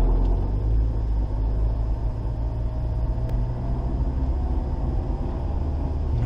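A vehicle rolls along a gravel road through countryside near Mt Greylock, a steady low rumble of tires and engine filling the interior, with no talking.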